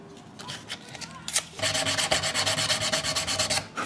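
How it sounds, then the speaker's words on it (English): The edge of a Lexan polycarbonate crankbait lip is sanded down with fine grit paper. A few tentative scrapes give way to a fast, even run of close, rhythmic rasping strokes, with no voice over them. "It's called Lexan polycarbonate, and I'm gonna sand the edges down to like 300 grit."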